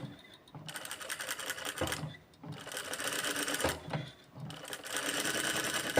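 A sewing machine runs in several fast stitching bursts as practice stitches are sewn on fabric, its rapid mechanical chatter separated by brief pauses.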